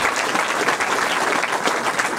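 Comedy show audience in Darmstadt breaking into loud, dense applause, a continuous roar of many clapping hands close by with faint crowd murmur underneath.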